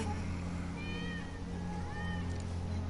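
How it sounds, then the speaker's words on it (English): A cat meows in Final Fantasy VII, two faint, drawn-out meows under a loud, steady mechanical hum and game ambience. "That's Wedge's cat."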